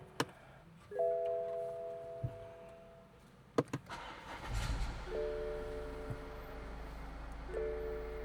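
A 2016 BMW 5 Series starts up inside the cabin: chimes and clicks, a brief whir of the starter, then the engine catches and settles into a low steady idle, with further warning chimes over it.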